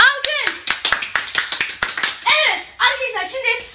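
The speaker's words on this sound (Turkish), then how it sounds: "Alkış." A small family group claps rhythmically in close, steady beats at the start of a home party-game challenge, with excited voices and children chattering over the clapping.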